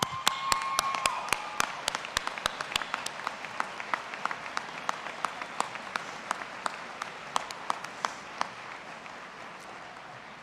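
Graduation ceremony audience applauding in a large hall, sustained clapping from many hands with sharp individual claps standing out, steady throughout and gradually thinning slightly toward the end.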